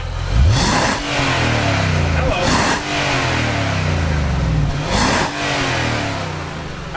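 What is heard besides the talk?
2019 Infiniti QX80 engine revving through exhaust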